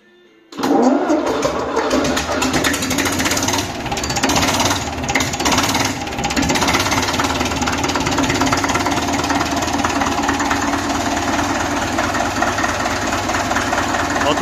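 A Škoda 4S110 engine that had not run for years cranks, catches and settles into a loud, steady knocking idle close by, running continuously after a quiet start.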